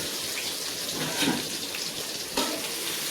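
Chopped onion and garlic sautéing in oil in a pan while making a country chicken gravy, a steady close sizzle and crackle with a couple of brief louder spatters.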